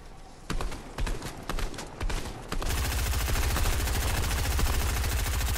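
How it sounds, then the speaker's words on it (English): Rapid bursts of gunfire in a Fortnite match, shots fired at a built floor piece, first scattered volleys and then a dense continuous rattle of fire, loud and close. "he's shooting our floor piece now"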